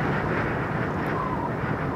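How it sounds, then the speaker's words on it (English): Steady roaring wind buffets the microphone with a constant low rumble throughout, no other sounds standing out. "It is so windy outside."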